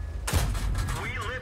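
Gunfire crackles through a multiplayer tank battle in a clan detachment match, a loud burst of shots with rumbling impacts layered under continuous voice chat from players talking over each other.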